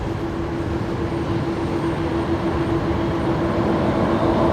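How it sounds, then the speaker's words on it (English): A Qantas Airbus A330-200 taxis at night along a taxiway at Brisbane Airport, giving a steady broad engine roar with a constant whine that grows slightly louder as it approaches. "we'll see Qantas 15 coming up taxiway"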